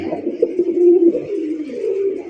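A male pigeon of a show breed coos up close, giving a low, rolling murmur that swells and fades across a couple of seconds.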